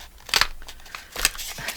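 A paper trimmer makes two crisp crunching cuts with a scallop trim through paper, close up, separated by a short quiet gap and a few faint clicks.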